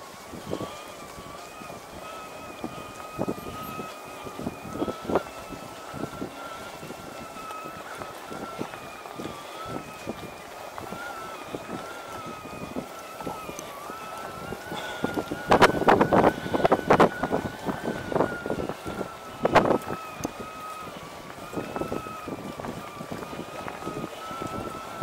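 Gusty wind buffets the microphone while an e-mountain bike rides on the Anninger, a steady roar with louder rumbling bursts midway, crackling ground and rattles scattered throughout.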